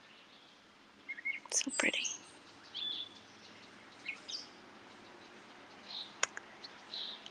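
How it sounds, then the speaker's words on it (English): A few faint, scattered bird chirps in a quiet outdoor setting in Connecticut, with a soft spoken voice briefly murmuring among them. "Listen to those birds."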